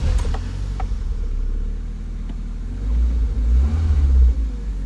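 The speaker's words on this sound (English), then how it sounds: "So I'm just going to reverse it back into the space I've just pulled it out from." A nearby Ford Puma 1.7 engine rumbles low and idles, then revs slightly as the car slowly reverses into a parking space, a few light clicks early on.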